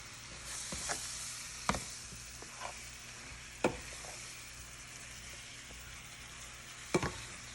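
Jamaican curry chicken fries in a hot pot on high heat, a steady low sizzle broken by a few sharp spoon knocks and scrapes against the pot at irregular intervals, with no talking.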